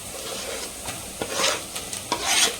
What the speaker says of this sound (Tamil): இங்கே சட்டியில் வெங்காயம் வதங்கிட்டு இருக்குது. இந்த வெங்காயம் வதங்கும் போதே இந்த கட் பண்ணி வச்சுருக்க பூண்டை சேர்த்துருவோம்